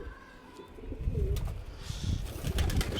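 Pigeons cooing softly and steadily in a coop, with rustling, fluttering and small knocks close by.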